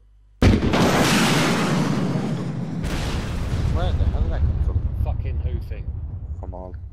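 A loud boom from military exercise fire hits first, then a long rumbling roll that slowly fades, with faint voices and crackle toward the end.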